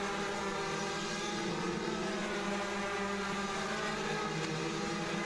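Several Rotax DD2 Masters racing kart engines drone and buzz steadily together during a 21-lap final at the 2011 Rotax Max Challenge Grand Finals, a dense continuous mechanical roar with no pauses.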